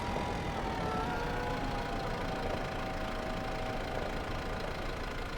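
A tractor engine idles steadily with a constant low rumble and a faint knocking texture, holding an even level throughout with no talk over it.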